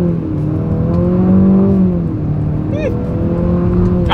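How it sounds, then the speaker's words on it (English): A 2025 Infiniti QX60 accelerates hard in sport driving mode, its engine droning loud and steady from inside the cabin and rising slightly in pitch, with a brief chirp partway through. "Let's put the acceleration here to the test with the QX60 having full control."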